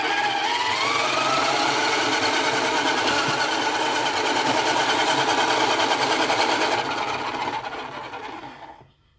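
A motorized spinner for square paint-pour art whirs at high speed, a steady buzzing mechanical drone that holds for several seconds before winding down and cutting off.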